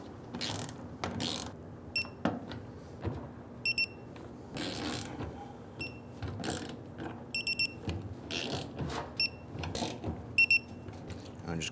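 A ratchet clicks in short bursts while torquing the fuel pump tank seal bolts on a 1994-2004 Ford Mustang, the rapid pawl clicks coming in repeated spurts between quieter handling noises, close and fairly faint.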